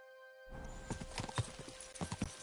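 Horse hooves clip-clop at a slow walk in Kingdom Come Deliverance 2, irregular thuds close by, starting after a brief silence.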